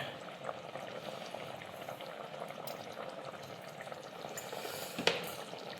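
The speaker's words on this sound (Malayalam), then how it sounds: "നമ്മുടെ കറിയെല്ലാം ഏകദേശം വറ്റി വന്നിട്ടുണ്ട്." Mackerel pepper fish curry simmering down on a stove, a steady soft bubbling hiss that runs evenly throughout, with one brief sharper clink near the end.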